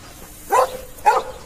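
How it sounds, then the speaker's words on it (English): A dog in a radio drama barks twice, two short, fairly close, evenly spaced woofs over a quiet background. "May I let the dog loose?"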